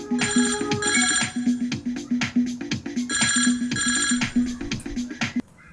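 An office telephone at a marriage bureau rings in two long electronic bursts, loud and close, with rapid pulsing trills before cutting off abruptly.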